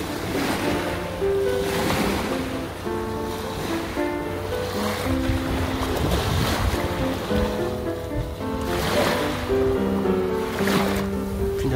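Ocean waves roll and crash steadily and loudly, with wind gusting across the microphone the whole time.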